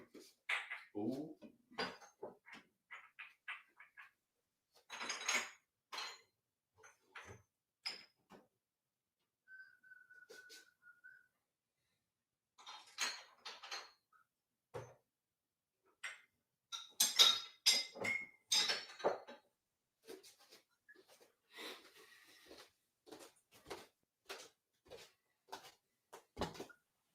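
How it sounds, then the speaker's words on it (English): Glass bottles clink faintly now and then as they are picked up, scattered light chinks spread across a quiet stretch, with bits of whistling in between. "let me grab some bottles"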